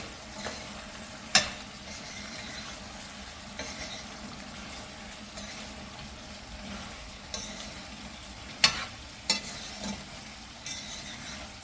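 A spoon stirs and scrapes through gongura chicken curry in a hot pan over a low, constant sizzle, with a few sharper scraping strokes at irregular intervals.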